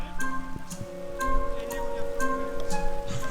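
Rain falls steadily outdoors, with a close patter of drops and scattered sharper ticks on nearby surfaces, over a low constant hum.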